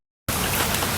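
After a brief silence, rain starts abruptly during a boat ride through a mangrove forest in Kerala, a loud, dense, steady hiss of falling drops that continues to the end.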